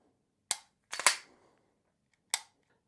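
A Staccato HD P4.5 pistol fires four sharp, close shots: one alone, a quick pair with a short echo, then a final shot after a pause.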